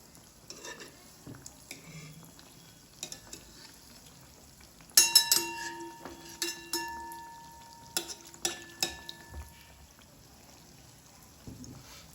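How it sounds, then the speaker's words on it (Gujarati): Wheat-flour donuts fry in oil over low heat with a soft, steady sizzle, punctuated by scattered clinks and scrapes of a utensil against the pan. "એની જાતે એને ધીમા તાપે તળાવવા દેવાનું છે"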